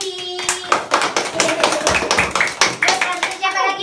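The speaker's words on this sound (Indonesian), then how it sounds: "Tepuk tangan untuk temannya Cindy." Children in a fifth-grade classroom clap in rhythmic unison for a classmate, sharp near claps in a quick patterned beat mixed with young voices talking over them.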